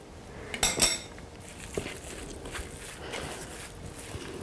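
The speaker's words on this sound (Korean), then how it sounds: "자, 이렇게 해서 잘 저어 볼까요?" A spoon clinks sharply against a dish a few times while a tofu scramble with raw chives is stirred. Quieter scraping and shuffling follow, close and faint, with no speech.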